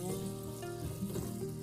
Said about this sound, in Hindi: ऑयल को गर्म होने देंगे। जैसे ही ऑयल गर्म हो जाएगा इसमें मैं 1 कट की हुई प्याज है वो ऐड कर रही हूँ।